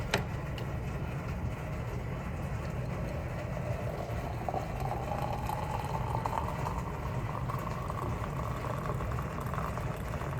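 Hot water is poured into a glass French press cafetière: a steady liquid splash and gurgle whose pitch rises as the vessel fills, moderately close, with no talk over it.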